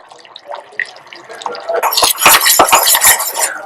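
A spoon scrapes and clanks against a large kadhai as sugar syrup is stirred, starting with quiet scattered taps and building into loud, busy metallic scraping.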